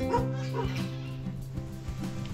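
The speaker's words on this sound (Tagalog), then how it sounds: "may aso" A dog barks and yips close by in short bursts, with a steady low hum underneath.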